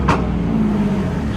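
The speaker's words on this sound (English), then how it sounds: "A little downshift action." A car's engine drops through a downshift at a car wash, a steady low drone with a brief brighter burst near the start, loud and close with no talk over it.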